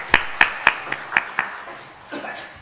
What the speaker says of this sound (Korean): 우리 하나님께 영광의 박수 돌리겠습니다